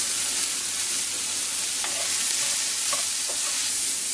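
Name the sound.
mushrooms added to pan frying with onions and garlic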